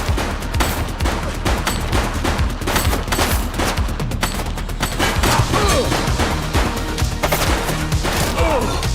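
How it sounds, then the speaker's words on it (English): A suspect opens fire in The Precinct, a dense burst of rapid, loud gunshots crackling continuously at close range with crashing impacts mixed in. "She's shooting!"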